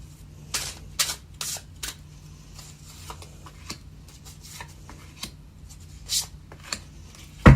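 Tarot cards are shuffled in a series of quick riffling bursts and soft slaps, irregularly spaced, close and fairly quiet.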